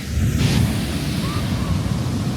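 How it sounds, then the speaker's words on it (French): Large waves break on a beach at Puerto Escondido, a loud, close wash of surf with heavy wind buffeting the microphone, alone with no talk. "Il y a des immenses vagues parfois."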